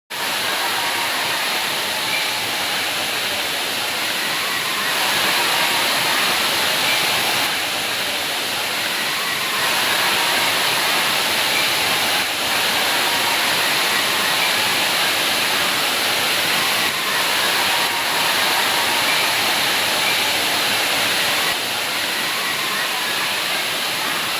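Palaruvi waterfall in Kerala roars as a loud, steady, broadband rush of falling water that fills the whole stretch without pause, close and constant.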